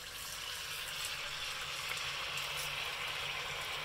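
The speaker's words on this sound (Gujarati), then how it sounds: "તો ગેસ પર તેલ ગરમ કરવા મૂકી દીધું છે મેં, તો હવે આ રીતે એને તળી લઈશું" Dhekra deep-frying in hot oil on a gas stove makes a continuous, even hiss of bubbling oil heard up close with no voices.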